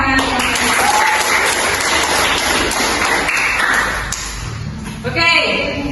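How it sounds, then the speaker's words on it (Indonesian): A classroom group applauds to welcome students walking up to the front during a teaching session; loud, dense clapping fills most of the stretch, then fades as voices and a brief tonal sound take over. "Kita sambut dengan tepuk tangan."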